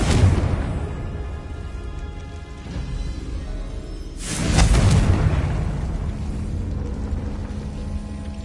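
Confringo blasting spell explosions in Hogwarts Legacy, a broad crackling burst at the start and a second louder boom midway that rumbles and decays, amid continuous game ambience.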